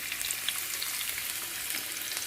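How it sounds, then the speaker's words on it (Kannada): Garlic and ginger fry in hot oil in a pan, with a continuous dense sizzle and fine crackling held steady throughout a short, quiet stretch with no voices. "ಬೆಳ್ಳುಳ್ಳಿಯನ್ನು ಚೆನ್ನಾಗಿ ಫ್ರೈ ಮಾಡಬೇಕು. ಬೆಳ್ಳುಳ್ಳಿ ಚೆನ್ನಾಗಿ ಫ್ರೈ ಆಗಬೇಕು."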